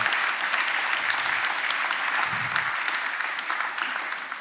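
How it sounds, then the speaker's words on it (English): An audience at a physics conference gives sustained applause for gold medal winners. The steady clapping from many people in a hall fills the whole clip and fades slightly at the end. "So I think they deserve applause."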